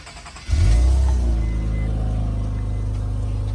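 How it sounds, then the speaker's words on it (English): A car engine cranks and catches after a throttle gasket replacement, then settles into a steady, loud idle that rumbles on without a break. "let me see if I can turn the car on"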